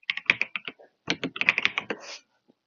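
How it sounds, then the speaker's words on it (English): Rapid bursts of typing on a computer keyboard heard over a remote call, clustered keystrokes in two runs separated by a short pause, fairly close and clear with no talking. "I can hear you typing."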